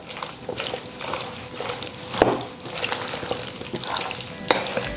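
Potato salad gets mixed in a bowl with sugar added, making wet, squelching stirring sounds and soft scraping in an irregular rhythm, close and fairly loud.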